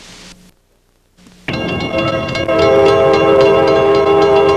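An Amtrak passenger train rides the rails through the Arizona countryside. After a brief hush, a loud steady rumble of rolling wheels sets in, with tonal horn-like hum and clatter continuing close and sustained.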